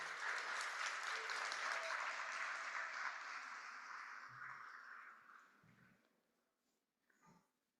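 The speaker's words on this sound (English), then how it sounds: "Clap it up for Julio." A summit audience applauds as a speaker takes the stage, with dense, moderately loud clapping that gradually fades over about five seconds, followed by a few faint rustles and a brief breathy sound.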